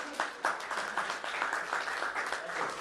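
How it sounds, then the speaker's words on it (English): An audience at a Rotary club membership talk gives a round of applause, a dense steady patter of many hands clapping at moderate distance for a few seconds, with faint voices mixed in. "Give him a round of applause"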